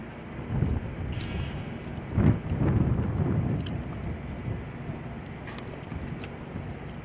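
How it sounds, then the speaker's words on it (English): Wind gusts buffet the microphone at a drag racing track during IHRA testing at Darana Motorsports Park. Loud low rumbling bursts peak early, then settle into a softer steady rush. "That wasn't even a big gust either."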